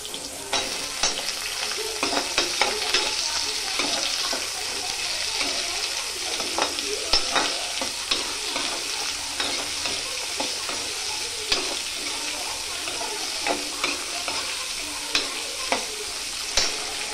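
Radish chutney ingredients with tomato, coriander leaves and tamarind frying in a pan, a steady close sizzle broken by frequent scraping stirs of a spoon, no voices.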